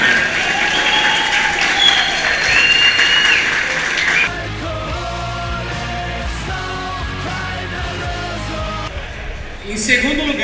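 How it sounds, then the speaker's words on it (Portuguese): Applause for the third-place beer at a craft beer contest in Entre Rios, Brazil, opening with loud cheering and yells over a dense clapping swell that thins to steadier clapping, then a brief burst near the end, with talk mixed in. "Palmas para o terceiro lugar."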